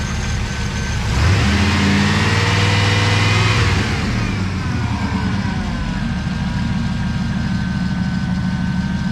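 A GMT-400 series Chevy/GMC pickup engine, 1988–98 body style, gets a short blip of throttle that rises and falls, then settles back into a steady, close idle.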